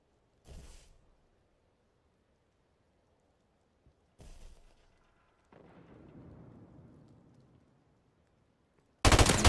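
Gunfire in the Modern Warfare Remastered video game: two short bursts a few seconds apart, then a longer sustained burst, ending in a sudden loud, close burst, with no talking.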